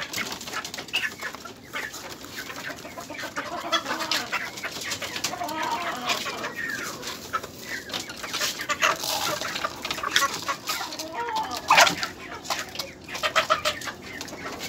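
Flock of chickens and hens in a small backyard poultry pen, clucking busily at feeding time, with overlapping clucks and calls near and far and a few louder squawks, no talking.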